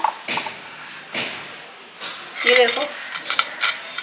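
Dirty plates and cutlery are handled and stacked for rinsing before going into the dishwasher, with scattered clinks and clatters of dishes knocking together and brief scraping between quieter moments.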